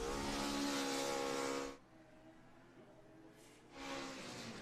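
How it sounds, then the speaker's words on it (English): A Formula SAE race car, Oklahoma car 42, roars past during a 2024 endurance event, loud broadband engine noise fading out for about two seconds before another car surges back in at close range. "We hear Oklahoma car 42 in the background"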